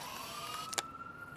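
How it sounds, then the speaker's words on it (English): A thin siren tone in the video game Life is Strange: Out of Time holds steady in the background, with a couple of brief sharp noises cutting in over it. "I hear sirens."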